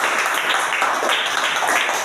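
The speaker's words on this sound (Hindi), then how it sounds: "बिटिया के लिए भी जोरदार ताली" Applause for a young girl named Shraddha at a school gathering, a dense, steady wash of many hands clapping together, loud and continuous throughout with no talk over it.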